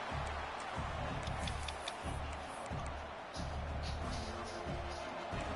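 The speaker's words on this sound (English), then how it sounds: "the crowd coming to life here, trying to help this defense down in the red zone" Stadium crowd at a Boise State versus USC college football game, with a steady broad roar of cheering that swells and dips, and a commentator talking over it.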